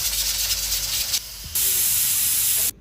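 A pressure cooker steaming sweet potatoes lets out a loud, steady hissing whistle of escaping steam, which cuts out briefly midway, resumes strongly, then stops abruptly near the end.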